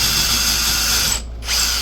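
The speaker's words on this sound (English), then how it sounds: "drill a new hole" A power drill boring a new hole into reclaimed wood, a loud close whine that runs steadily, cuts out briefly for a moment, then starts up again.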